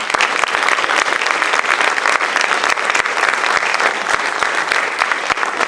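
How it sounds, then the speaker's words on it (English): Audience at a board of education meeting gives Jonathan a loud, steady round of applause, dense overlapping claps with a few sharper individual hits, sustained throughout. "I think he deserves a round of applause"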